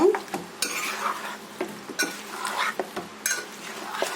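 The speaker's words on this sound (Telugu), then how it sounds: "వేసుకొని కలుపుకుందాము ఈ విధంగా అంత కలిసే విధంగా కలుపుకుందాము" Chicken curry being stirred and mixed in a pot, with a steady run of scraping, clinking spoon strokes and a faint sizzle, close and moderately loud with no talking.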